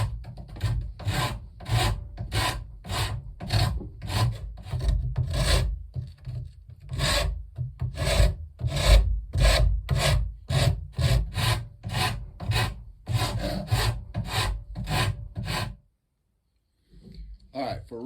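Steady rasp strokes shaping the wooden stock of a black powder caplock rifle, a rhythmic series of close, scratchy filing rubs that repeat for about sixteen seconds before stopping.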